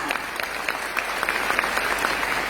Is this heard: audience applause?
yes